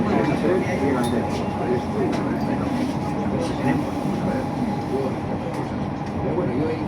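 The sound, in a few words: metro train at station platform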